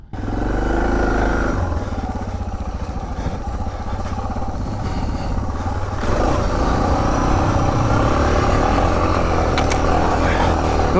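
A Suzuki DR650 dual-sport bike engine revs loudly and continuously on trails, its pitch rising and shifting with a rough, clattering tone throughout.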